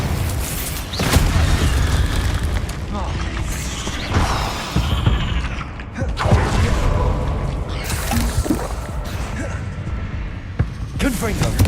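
Repeated loud spell blasts from Hogwarts Legacy, Bombarda explosions booming and crackling in close succession amid combat clatter, with a voice speaking between hits.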